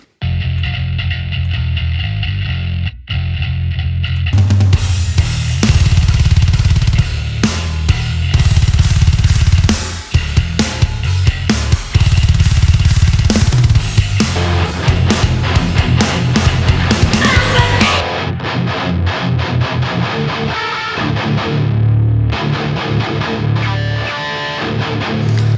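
A distorted bass guitar plays in a metalcore track, loud and chugging with abrupt stops and restarts. A quieter passage comes first, then a dense, heavy section runs for most of the clip before thinning out near the end.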